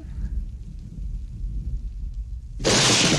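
A low, continuous rumble of thunder from the 1982 film Poltergeist rolls throughout, then a sudden loud burst of noise crashes in near the end.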